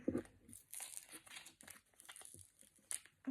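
Crinkly plastic being pulled and ripped apart in quick bursts, close up, with rustling between the sharper tears.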